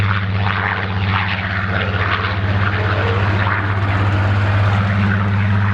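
Supermarine Seafire F.Mk.XVII with a Griffon engine flies a display at Old Warden, its propeller engine giving a loud, steady, throbbing drone that holds throughout without a break.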